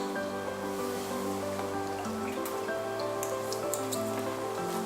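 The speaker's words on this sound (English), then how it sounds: "Then, when the machine is running, the flavor is added." An ice cream machine runs with mix inside, giving a steady, even mechanical hum with layered motor tones and faint wet churning and squishing throughout.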